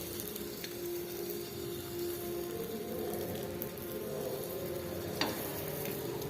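Patishapta pitha batter sizzles steadily in a frying pan over a medium flame, a continuous close hiss with faint crackles.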